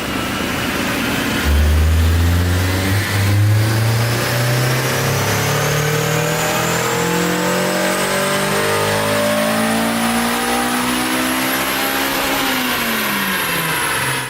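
A Honda S2000 engine with an aftermarket exhaust revs hard on a dyno, climbing steadily in pitch through a long, loud pull and then easing off near the end, with no voices.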